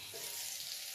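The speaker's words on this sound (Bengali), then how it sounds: "আর বসিয়েছি পটল ভাজা হচ্ছে" Pointed gourd (potol) frying in a pan, a faint, steady hiss of oil sizzling for about a second.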